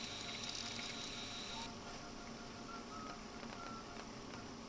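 Flowing water in the video game Luigi's Mansion 3DS, a steady, soft running trickle like a faucet filling, quiet and continuous throughout.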